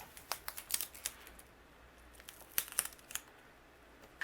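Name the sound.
applying foam tape to the back of a die-cut card piece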